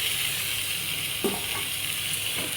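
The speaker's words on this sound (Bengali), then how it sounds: "মশলাটা কষানো হয়ে গেছে এবার আমি দিয়ে দেবো এর মধ্যে চিকেনটা" Chicken pieces go into a pan of sizzling, well-cooked spice masala. A constant frying hiss is broken by a brief louder splutter and a few soft stirring knocks, with no talking.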